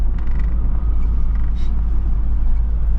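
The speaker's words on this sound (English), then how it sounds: "So we're driving through Austria" A car drives through the Austrian countryside on a 2024 road trip, heard from inside as a loud, steady low engine and road rumble with faint creaks, with no talking.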